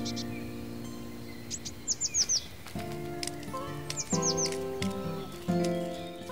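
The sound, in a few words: blue tits calling in fir treetops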